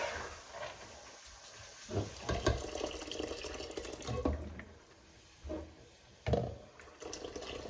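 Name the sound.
water being added to a pot of chana dal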